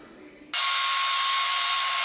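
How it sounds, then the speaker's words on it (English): Polishing tool with sanding pads switches on abruptly and runs at a loud, steady high whine, buffing walnut Venetian plaster up close. "I'm going to go over it with the polishing pads again"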